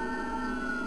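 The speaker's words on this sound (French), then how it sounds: "Vous entendez la sirène qui passe là?" An emergency vehicle siren passing outside holds a steady wailing tone with strong harmonics, moderately loud and continuous through the short moment, with no talk over it.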